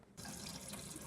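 Tap water suddenly starts flowing into a measuring container, a close, steady splashing rush that begins sharply and continues evenly for about a second.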